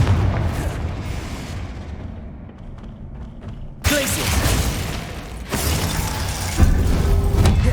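Confringo fire spell blasts in Hogwarts Legacy combat: a loud sudden boom bursts in after a quieter rumble, followed by further explosive impacts and a sustained roaring din.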